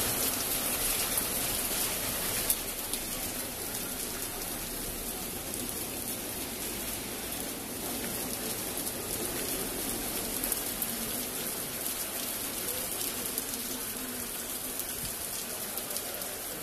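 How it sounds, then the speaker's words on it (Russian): Steady rain pours onto a Prague street in the old town, a dense, even hiss of drops on pavement and surfaces that holds at the same level throughout with no voices. "Ждем, пока дождь пойдет, он все сильнее и сильнее."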